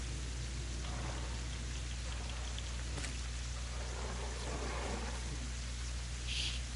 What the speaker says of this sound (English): Now it's raining, but it's day.